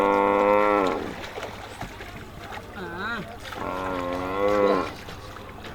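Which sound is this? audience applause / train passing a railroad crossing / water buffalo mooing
water buffalo mooing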